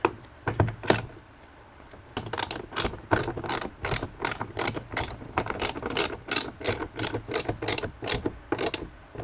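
Hood mount bolts on a RAM 1500 Limited being tightened with a ratchet, a long run of rapid, evenly spaced clicking strokes, close and crisp, after a brief pause near the start.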